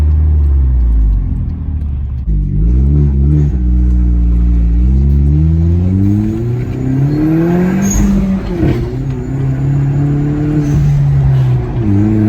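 A 2011 Hyundai Genesis Coupe 2.0T widebody revs up hard and accelerates, pitch climbing steadily, with a brief squeal of wheelspin near the start; loud and close throughout.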